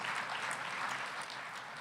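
Gala audience applauding a donor at a brain research fundraiser, a short burst of dense, steady clapping from many hands at moderate level.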